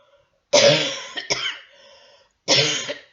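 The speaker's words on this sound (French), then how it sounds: "Je tousse tout le temps, ouais." Two harsh coughs, the first a quick double burst, then a second cough after a short pause, close and loud with no talking.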